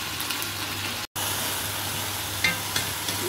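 Chicken frying in a pan with salt and turmeric, a steady close sizzle with a few soft stirring scrapes near the end.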